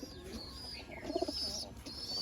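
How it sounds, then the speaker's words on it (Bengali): Pet pigeons perched in a tree coo softly in a few low, rounded notes midway, faint and outdoors amid light ambient noise and a thin high bird chirp. "কবুতরগুলো আছে ওই যে গাছে বসে আছে"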